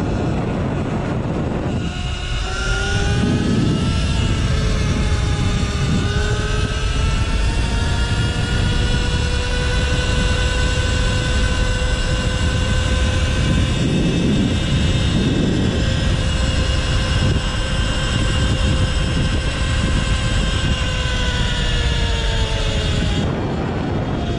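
A Surron electric dirt bike runs at top speed on the road, a steady high whine with rising and falling tones under heavy, constant wind roar.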